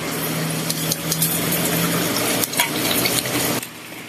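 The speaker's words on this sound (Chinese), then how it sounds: "卵伫咧前台顶悬煎甲哔哔叫，搁掺一寡肉甲菜，营养的卵饼就完成啊！" Eggs fry on a hot griddle at a breakfast shop in Huatan, Changhua, Taiwan, for egg pancakes, a steady close sizzle with occasional scraping and clatter of utensils.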